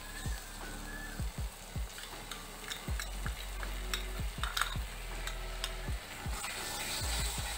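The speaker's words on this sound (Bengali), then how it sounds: "দইয়ের মধ্যে মেশানো সমস্ত মশলাগুলো সেগুলো দিচ্ছি।" Spices mixed in yogurt hit a hot pan of frying tomato and masala for a potol and prawn curry, giving a close, steady sizzle punctuated by repeated sharp clinks and scrapes of a spatula against metal.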